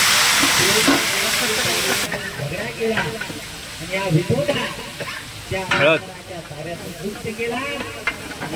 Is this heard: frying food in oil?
yes